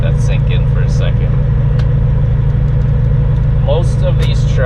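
A semi truck's diesel engine idles in a steady, loud, low rumble, while someone talks over it throughout.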